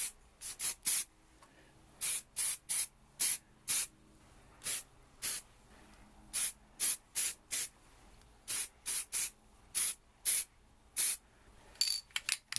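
An aerosol can sprays satin black paint onto a BSA Goldstar handlebar clock in many short, sharp hissing bursts, loud and close, separated by brief quiet gaps.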